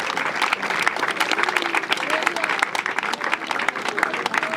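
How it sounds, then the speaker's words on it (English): A crowd applauds community heroes at the Ayakoro Festival, steady dense clapping filling the whole stretch with crowd murmur and faint voices mixed underneath. "Round of applause for the great heroes,"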